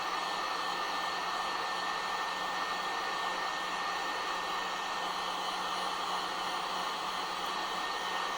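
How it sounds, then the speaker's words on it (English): A heat gun set on low blows a steady, even hiss of hot air close by while it heats the leg of a 1:15 toy motorcycle, with no talking. "You want to be careful with a heat gun on matte surfaces, because if it heats it up too much, it's going to turn it glossy."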